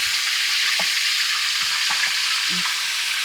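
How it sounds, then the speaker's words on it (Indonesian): Fish frying in a pan of hot oil, a steady broadband sizzle throughout with a few soft clinks and stirs from a utensil, close and continuous with no talking. "Iwake lur digoreng lur."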